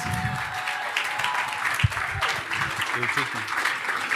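Applause from guests at a 65th birthday celebration for a Nigerian actor, dense clapping mixed with crowd murmur and scattered voices, one sharp thump partway through.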